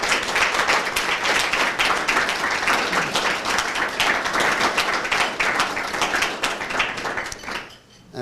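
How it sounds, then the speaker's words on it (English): An audience at a young entrepreneur awards ceremony in Cavan, Ireland, breaks into dense sustained applause, many hands clapping loudly for several seconds before it abruptly fades out. "So I think they all deserve a round of applause from you."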